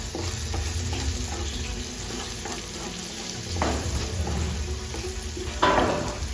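Bheja fry, brain frying in a pan, sizzles steadily with stirring scrapes and a few louder hissing bursts throughout.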